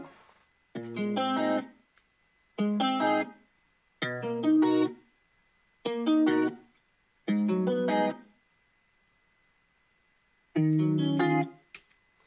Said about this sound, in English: I'm gonna basically just play the guitar really quick so you can kind of hear it